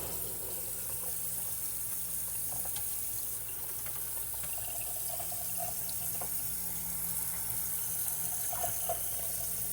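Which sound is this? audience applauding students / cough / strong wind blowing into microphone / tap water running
tap water running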